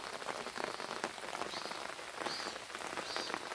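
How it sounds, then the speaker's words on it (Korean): Steady rain falls on a vegetable garden with climbing cucumber and bitter melon vines, a dense close patter of drops throughout with no talking. "이렇게 비가 오니까"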